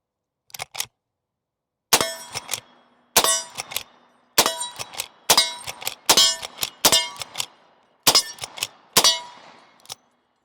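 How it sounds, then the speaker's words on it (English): A Winchester Model 1873 reproduction lever-action rifle is cycled rapidly, producing a series of loud, sharp metallic clacks in quick pairs and clusters separated by brief silences, about eight cycles. "we'll just see how fast we can work the action on this one"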